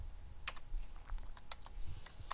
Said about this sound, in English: I'm typing the text in